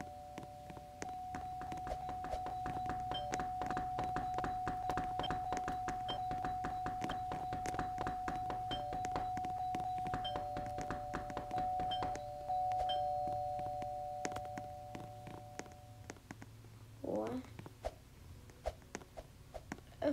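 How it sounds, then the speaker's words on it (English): A doorbell in the Roblox game Brookhaven is rung over and over, producing a rapid, steady stream of chiming hits over a sustained tone for about twenty seconds, fairly quiet with no talking. "This dude's spamming bells."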